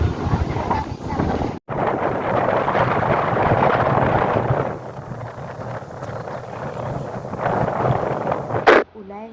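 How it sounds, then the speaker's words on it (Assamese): Strong wind blows over a river embankment (DTP dyke) in Dibrugarh, buffeting the microphone with a loud, continuous rumbling roar that cuts out briefly twice. "এয়া চাওক কিমান বতাহ মাৰিছে, মানে ক'বলৈ নোৱাৰিছোঁ আৰু বহুত বতাহ।"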